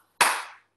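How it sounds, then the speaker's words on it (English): One sharp hand clap from a modern dance routine class, a single crisp close smack that decays quickly, followed by silence and the start of another. "And then we're going to go clap."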